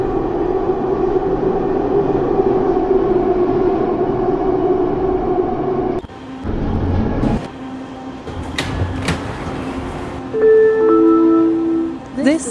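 A 1995 Bombardier Mark 1 SkyTrain on Vancouver's Expo Line runs with a steady loud rolling hum, then slows with clunks and door sounds, a chime and a rising electric whine near the end.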